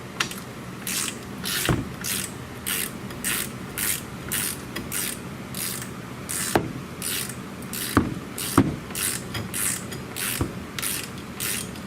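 A torque wrench tightens wheel bearing bolts on a 2010 Chevy Impala, a close run of rapid ratcheting clicks in rhythmic bursts with a few sharper metallic snaps, quiet with no talking.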